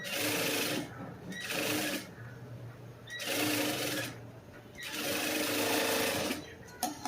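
A sewing machine runs in several bursts while stitching a cross-cut blouse piece, each whirring, rapid run lasting about a second or more, separated by short pauses, loud and close.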